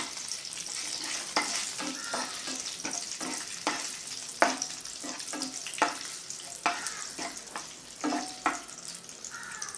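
Rava (semolina) roasting in a pan with steady frying sizzle, overlaid by repeated scraping strokes of a spoon stirring it, close and fairly loud without any talk.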